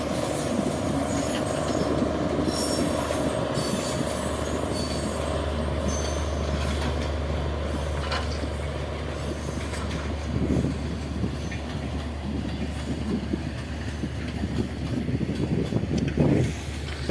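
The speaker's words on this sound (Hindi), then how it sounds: "इस वक्त जौनपुर सिटी की तरफ ये ट्रेन जा रही है" A train running on the railway line toward Jaunpur City station, a steady loud rumble of wheels and cars passing close by, with occasional squeals and clanks rising near the end.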